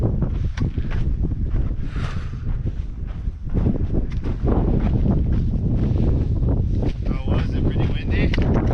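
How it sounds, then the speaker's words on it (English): Strong, cold wind on the summit of Mt San Gorgonio buffets the microphone in loud, continuous gusts, roaring and rumbling throughout with brief lulls. "It's real windy, real cold at the very top."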